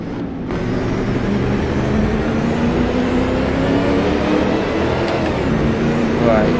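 A 1936 Mercedes racing car engine drones steadily at Donington Park, a close, continuous low hum with a rising pitch line as it runs under load, with a brief louder burst at the start.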